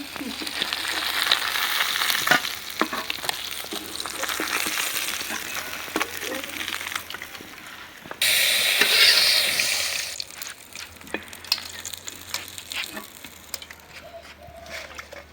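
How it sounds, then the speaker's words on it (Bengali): Koi fish fry in a pan of hot oil, a steady broadband sizzle with occasional sharp pops and spatters, and a louder surge of crackling partway through, close and continuous with no talking. "মাছ ভাজা শেষ হলো, একদম সেরকম করে ভাইজা নিলাম"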